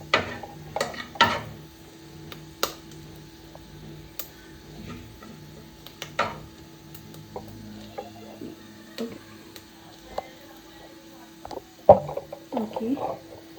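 Chopped ginger stirred in a frying pan while cooking onion noodles, with intermittent sharp taps and scrapes of a utensil against the pan over a faint low sizzle.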